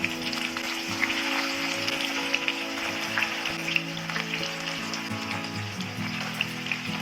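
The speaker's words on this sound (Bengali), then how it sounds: "ফুলকপির টুকরোগুলোকে তেলের মধ্যে 3-4 মিনিট ধরে হালকা ভেজে নেব।" Spiced cauliflower pieces hiss and crackle as they fry in hot oil over medium heat for a roast, a steady close sizzle with scattered pops running throughout, no voices over it.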